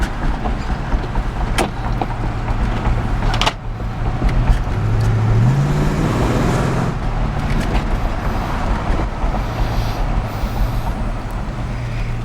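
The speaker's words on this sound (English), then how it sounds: "Engine's strong, runs good" A 1972 Plymouth Roadrunner with GTX option engine idles and hums steadily nearby, its low rumble rising briefly as it revs, with faint mechanical rattles throughout.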